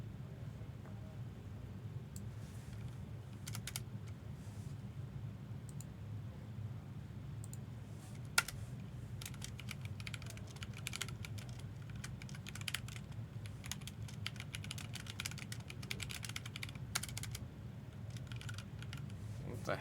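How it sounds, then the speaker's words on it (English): Typing on a computer keyboard, a long run of quick scattered key clicks at close range over a low background hum. "I'm gonna start typing out the filler"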